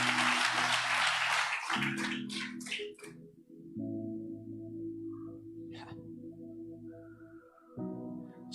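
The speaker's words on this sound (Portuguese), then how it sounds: "Se é para aplaudir, aplauda Jesus." A church congregation claps together for under two seconds, a dense burst that stops abruptly, followed by sustained keyboard or organ chords that hold and shift for the rest of the stretch.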